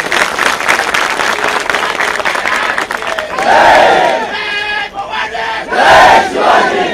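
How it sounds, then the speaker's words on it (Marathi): A large crowd at a rally at Azad Maidan in Mumbai breaks into loud, sustained applause and cheering, with shouts rising over the clapping in two swelling bursts. "त्यांच्यासाठीच एक टाळ्या व्हायला पाहिजे"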